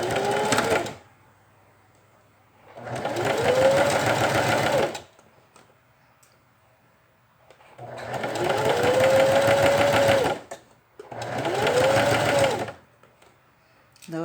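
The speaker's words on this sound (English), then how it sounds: "Notice I'm sewing my seam allowances open." A sewing machine stitches seam allowances on a garment facing in three long runs of rapid, steady whirring with a rising motor tone, separated by quiet pauses, close and loud with no talk.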